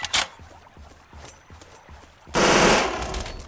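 Rapid minigun fire in the online game Surviv.io: a stuttering burst of shots for about two seconds, then a loud, dense, continuous roar of fire.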